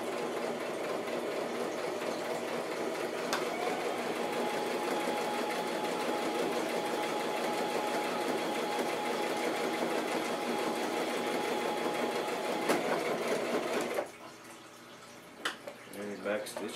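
A sewing machine stitches a handbag seam with a long, even mechanical hum that runs close and unbroken for most of the stretch, then cuts out, followed by a few light handling clicks as the work is shifted.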